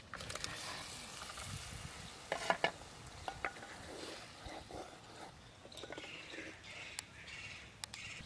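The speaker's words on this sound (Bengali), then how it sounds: "ঝোল ফুটে গেছে" Broth for a Bengali chitol fish muithya curry bubbles quietly in a pan, a faint continuous simmer with a few soft clinks of utensils, close and low, with no talking.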